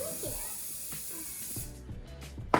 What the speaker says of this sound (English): We're gonna give it a pan spray.